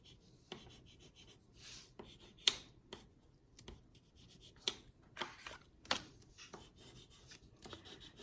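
A bone folder or similar tool rubs firmly across a folded greeting card, giving a close string of dry scraping strokes with a few sharper scratches. The strokes come in an uneven rhythm and no one talks.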